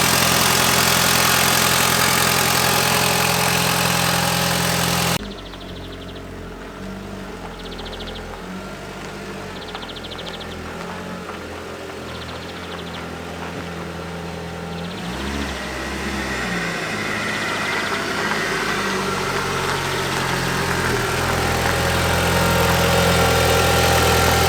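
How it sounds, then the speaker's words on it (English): An Audi TT engine idles while warming up, a steady low mechanical hum that continues throughout, with louder broadband noise at the start and the end. "we've got to bring the engine up to temperature"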